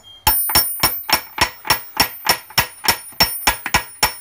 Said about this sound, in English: Sometimes you can just tap it lightly with a hammer.